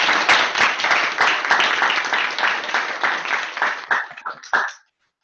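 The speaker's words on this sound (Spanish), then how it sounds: "yo propongo un aplauso para Teresita" An audience applauds after a talk at a children's and adolescents' institute, dense clapping that holds steady for several seconds, then thins into a few scattered claps before stopping abruptly.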